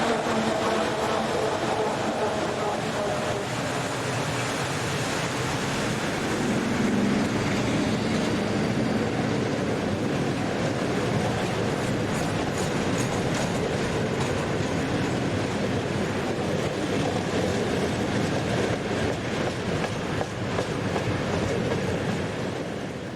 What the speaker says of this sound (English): The Skoda-built ET40 twin-unit electrics date from 1978.